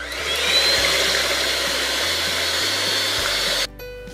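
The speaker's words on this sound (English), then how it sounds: "beat the egg whites until it's light and fluffy" Electric mixer beating egg whites for tiramisu, a steady loud whirring hum that shifts pitch slightly a few times and then cuts off near the end.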